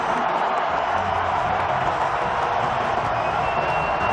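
A packed NFL stadium crowd roars steadily at a Dallas Cowboys versus Detroit Lions game, a dense, continuous wash of noise at even loudness with no break or swell.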